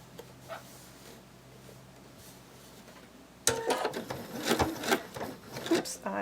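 A sewing machine stitching bunny plush fabric pieces starts up halfway through, a loud, fast mechanical whirring with rattling needle clatter, preceded by quieter handling noise.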